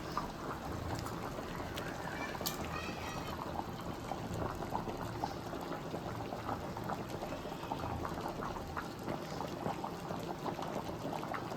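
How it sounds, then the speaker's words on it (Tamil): A pot of fish curry (meen kulambu) boils steadily, with soft continuous bubbling and popping close by, faint and without speech. "குழம்பு நல்லா கொதிச்சு வந்துடுது"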